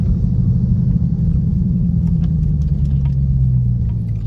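A car driving along downtown Savannah streets, with a steady low engine and road rumble that holds loud and close throughout, with no talking.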